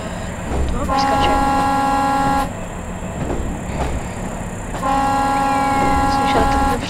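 Train horn in the Train Simulator 2024 video game, with a regional train on a railway line: two long, loud harmonic blasts separated by a pause, heard over running engine and track noise.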